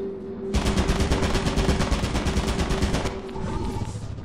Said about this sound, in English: It's a turret on a Roomba